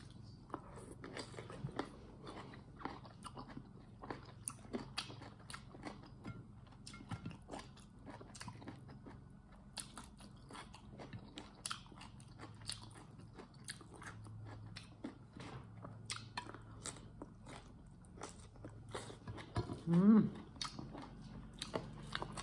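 Someone eats a shrimp dish close to the microphone, with soft repeated bites, crunches and wet chewing that run throughout under faint background noise.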